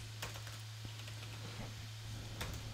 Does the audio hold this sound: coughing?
no